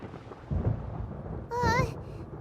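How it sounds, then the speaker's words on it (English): Rumbling thunder in the video game Genshin Impact, low and booming through the clip, with a brief high-pitched character voice cutting in partway. "Paimon hears thunder!"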